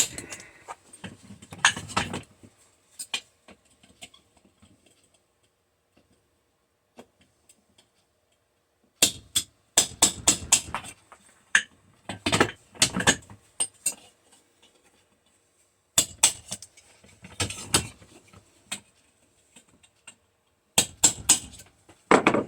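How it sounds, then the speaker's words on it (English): Bursts of sharp metallic tapping and knocking as a hammer and punch knock rivets out of an automotive HVAC blower motor, several quick strikes in each group, separated by quiet pauses, close by with no talking. "Take our hammer and a little punch. Knock those out."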